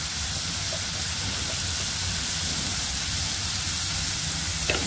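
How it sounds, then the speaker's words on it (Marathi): Masala seasoned with turmeric and salt frying in a pan for a Marathi vegetable bhaji. It makes a steady, bright sizzling hiss that stays loud and even from start to finish, with no voices. "आणि अजून छान मसाला परतून घेऊया।"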